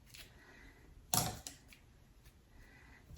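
Scissors snip through yarn for a pom pom: one crisp close cut followed by a few fainter snips against quiet room background.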